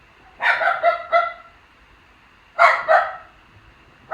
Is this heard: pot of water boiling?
no